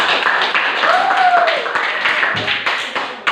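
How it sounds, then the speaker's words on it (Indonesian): A classroom group claps for the first student group, giving dense, close applause that lasts a few seconds with a voice faintly underneath. "beri aplaus dulu untuk kelompok 1"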